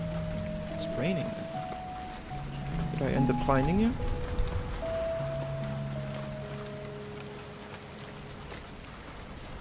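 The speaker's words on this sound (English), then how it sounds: "It's raining." Steady rain patters through a cute owl-girl platforming video game, a continuous hiss under soft sustained music tones, while a person talks over it.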